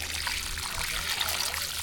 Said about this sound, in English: It didn't push that much air, but it's got pretty good water flow.